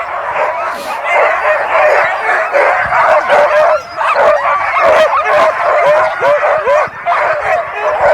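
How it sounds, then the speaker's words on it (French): Sled dogs bark, yip and whine impatiently at the start of a sled dog race stage, a dense, loud, continuous chorus of many animals close by, with faint voices in the background. "Quand on parlait d'impatience des chiens, là, on la voit bien cette impatience. Ils ont envie d'y aller."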